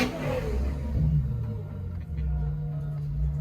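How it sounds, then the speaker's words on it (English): Low, rumbling Ferrari F12 TDF engine running in city traffic, a steady deep drone with a brief rising rev at the start, fairly close and without talk. "Your car's too loud, bro"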